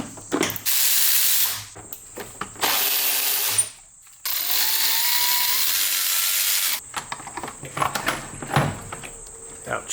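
A power tool unfastening 10mm bolts from the valve cover trim on an FL5 Civic Type R, in three sustained whirring bursts separated by pauses, close and loud, with brief clicks and a voice talking in between.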